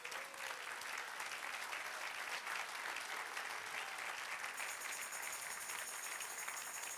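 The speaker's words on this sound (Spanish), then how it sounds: "Dale un aplauso al Señor." A church congregation applauds the Lord during a Spanish-language sermon, a dense, even wash of clapping that holds steady throughout at a fairly distant, subdued level.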